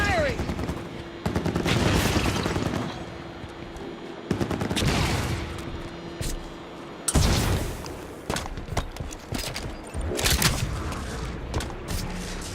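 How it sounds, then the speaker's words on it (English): Turret gunfire in Halo 5: Guardians, loud sustained bursts with heavy booms and ongoing battle noise, over several separate firing stretches and under occasional game voices. "Turret's on and firing."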